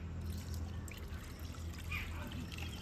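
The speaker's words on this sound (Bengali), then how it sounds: "তো এখানে আমি নর্মাল জল দিয়ে দেব" Plain tap water pours steadily into a cooking pot as part of a homemade hibiscus hair shampoo, a soft continuous trickle and splash heard up close and fairly quiet throughout.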